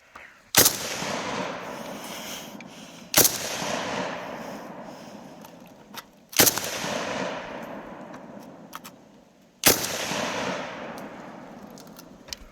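Type 81 light machine gun firing four separate single shots a few seconds apart, each a sharp, loud crack followed by a long rolling echo outdoors.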